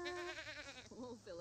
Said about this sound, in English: Let's milk the goat.